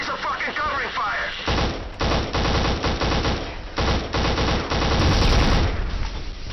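Covering gunfire in a shooter video game played on Xbox Series X: dense, loud bursts of automatic rifle and machine-gun fire with heavy thuds, continuous and close, while a voice shouts over the din.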